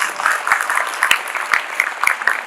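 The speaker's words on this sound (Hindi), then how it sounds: "तो जोरदार ताली से स्वागत करेंगे" An audience at a school event claps steadily and loudly to welcome a guest, a dense burst of applause lasting a couple of seconds.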